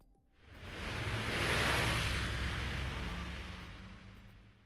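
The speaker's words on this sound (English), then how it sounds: "A huge truck speeds past. The gust of wind left in its wake nearly bowls us over" A huge truck on a bridge in the Steins;Gate visual novel rushes past as a broad whoosh of wind and engine rumble. It swells in from near silence, peaks, then slowly fades.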